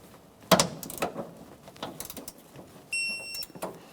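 A hand ratchet clicks in short, irregular bursts while torquing strut mount nuts on a 2012-2015 Honda Civic, near and fairly quiet, with a few metallic taps and a brief ringing scrape.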